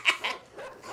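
A dog in the side-scrolling game Inside gives two quick sharp barks followed by a fainter trailing yelp, close and brief.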